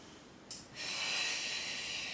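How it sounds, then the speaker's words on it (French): A long, steady breathy exhale during a gentle fitness breathing exercise, preceded by a short breath onset, close and fairly loud, with no talking. "On inspire. Et on souffle."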